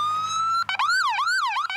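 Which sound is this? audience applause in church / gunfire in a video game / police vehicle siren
police vehicle siren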